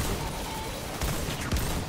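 Rapid gunfire in Destiny 2 Shadowkeep, a short burst of muffled automatic shots with a couple of heavier hits near the end, set against dense game noise.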